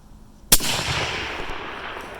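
A single sharp rifle shot fired with Remington ammunition at a steel target on an outdoor range, loud and close, with a long rolling echo trailing off afterward and no talk.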